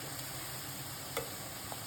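Chicken pieces fry in hot oil for a chicken pickle, giving a soft, steady sizzle with a faint tick or stir now and then, quiet and continuous.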